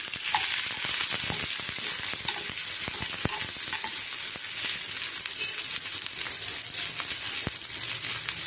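Urad dal fries in hot oil until browned, a steady, close, crackling sizzle with light scraping stirs running throughout, no voices.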